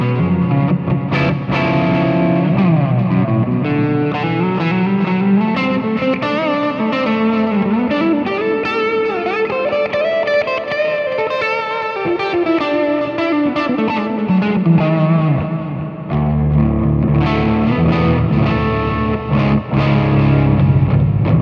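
Electric guitar played through a Groove Lab Axonic amp simulator with a crunchy, washy tone and heavy reverb and delay, sustained chords and notes ringing continuously at steady loudness, no voices.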